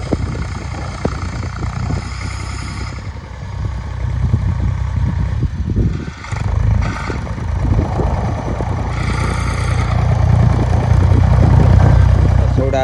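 A tractor engine running on a farm, a loud, continuous low rumble with steady idling throughout, with people talking over it.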